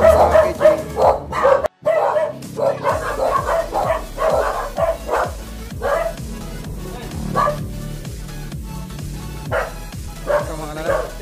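A dog barks repeatedly and loudly at close range at a house visit, a rapid series of sharp yaps with brief gaps, mixed with talking voices throughout.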